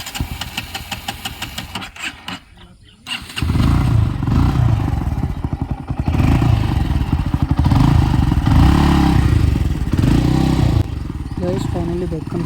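A repaired motorcycle sputters briefly, falls quiet, then fires up around the third second and runs loud and close at a steady, rough, clattering idle for the rest of the time.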